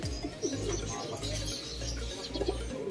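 Racing pigeons at a derby loft, with soft cooing and chirping birds near and busy over a low rumbling background, a few bird calls rising above the steady noise.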